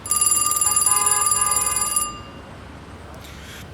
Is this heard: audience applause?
no